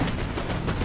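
Dense, continuous rumble of distant cannon and musket volleys across a Napoleonic battlefield in Napoleon: Total War during the Battle for Vienna, a steady low roar with no distinct separate shots.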